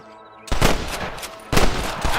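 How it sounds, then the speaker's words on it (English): Heavy gunfire in the Western video game Red Dead Redemption, two loud sustained bursts of rapid overlapping shots separated by a brief gap, close and dense. "I can hear more gunshots"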